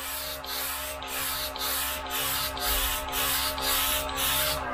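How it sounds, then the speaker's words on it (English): A portable airbrush sprays paint with a steady hiss over the low hum of its small compressor. Brief regular breaks in the spray come about once a second. The sound is close and continuous, and no one speaks. "It's a perfect working pressure for airbrushing, it really is."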